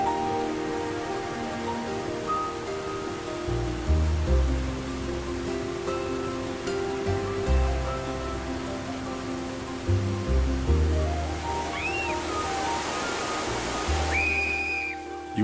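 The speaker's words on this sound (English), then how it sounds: "the falls goes over an overhanging ledge" Steady rushing spray of a waterfall falling over an overhanging ledge in Sapphire Valley fills the scene, a constant broad hiss with faint whistling tones rising near the end.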